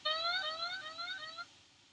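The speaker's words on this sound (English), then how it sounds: "an alarm rings" A drowsiness detection system's electronic alarm gives a short bright warble of falling tones that lasts about a second and a half, then cuts out.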